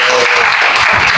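Dense, loud applause from a classroom group during a teacher performance assessment, continuous clapping close by for about a second.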